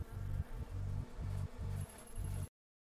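A dense swarm of bees from a heist film scene drones in five steady, pulsing bursts, each about half a second long with brief gaps between them, loud and close, and then cuts to silence.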